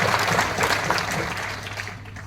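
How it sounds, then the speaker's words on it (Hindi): An audience at a direct-selling seminar claps loudly, a dense burst of applause that holds steady and tapers off near the end. "एक बार ताली भी आप खुद के लिए जोरदार।"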